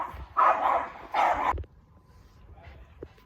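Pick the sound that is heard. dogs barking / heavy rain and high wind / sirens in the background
dogs barking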